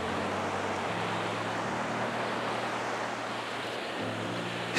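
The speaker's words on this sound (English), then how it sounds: "as the waves come in, the water comes in" Continuous wash of surf rolling onto the beach at Dawlish Warren, Devon, a steady hiss over a low rumble, with no voices.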